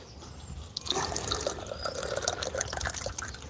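Green tea poured from a lidded vessel with the lid cocked slightly, a close, soft trickling and splashing stream of liquid that starts about a second in and continues steadily.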